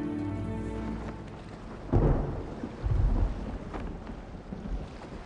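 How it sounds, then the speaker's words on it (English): Thunder rumbles through a rainstorm, with deep rolling booms swelling near the two-second mark and again around three seconds, set against steady rain hiss and no talking. "Hearing that thunder?"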